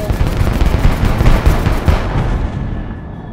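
Gunfire in the Air Wars 2 video game, a dense rapid stream of loud shots and booms that rattle on continuously, easing slightly toward the end.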